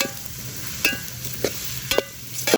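Chopped shallots tipped into a hot pan for beef thoran and stirred, with a soft sizzle under a few sharp clinks of the spoon against the pan.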